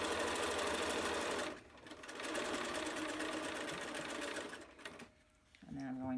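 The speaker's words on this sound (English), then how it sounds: "back stitch at the beginning and the end of each of these seams" Sewing machine stitching face mask seams in a patchwork assembly line, running in steady bursts with a brief pause and quick back stitches at the ends; a voice talks briefly near the end.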